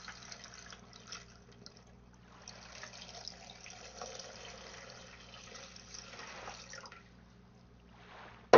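Tap water runs and trickles into an ozone produce washer basin, a soft, continuous pouring with a faint low hum beneath, fading out near the end.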